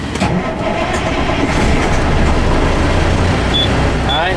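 A truck's diesel engine cranks and starts with the clutch held down during a CDL pre-trip inspection, a loud continuous rumble that fills the whole stretch.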